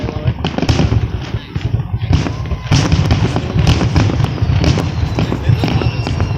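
Fireworks at the Fall River show, a dense run of booms, cracks and crackling bursts. The bangs are loud and fairly close, and people talk over them throughout.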